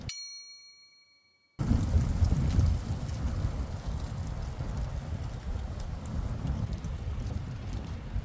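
Steady wind rushes and buffets against the microphone outdoors on a disc golf course, a loud continuous roar that starts abruptly after a brief fading ring and holds throughout.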